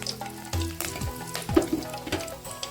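Curry leaves dropped into hot oil for raw mango rice, crackling and sizzling in bursts with a few sharp pops and clinks of stirring, close and clear, no talking.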